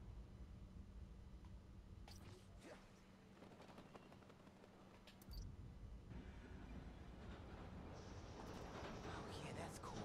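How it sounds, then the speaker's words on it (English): A passing train clattering along the tracks in the Spider-Man: Miles Morales video game, a rumbling, rattling rush that builds and shifts over several seconds, with scattered clanks and hisses throughout. "Oh, is that a train? It might be a train."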